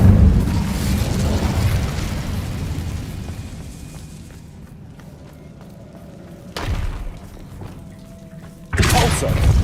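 An Incendio fire spell cast in the Hogwarts Legacy video game, a loud burst that fades into a quiet stretch, with two further sharp bursts later, all without talk.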